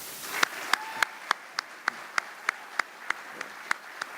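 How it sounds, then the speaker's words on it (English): At a U.S. Army ROTC commissioning ceremony at Murray State University, slow, evenly spaced claps ring out about a dozen times, crisp and distinct over a quiet room rather than a full roar of applause. "please join me in a round of applause honoring Major Burgess"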